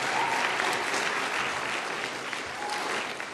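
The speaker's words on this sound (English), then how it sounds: "let's give them a quick applause" A crowd at a student school-choice rally hosted by a senator gives a quick burst of applause, dense and steady clapping that fills the room and fades slightly at the end.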